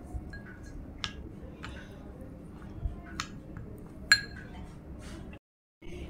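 A spoon mixes a homemade skin-tan removal paste in a bowl, producing sparse, light clinks and taps against the bowl at irregular intervals over a quiet background.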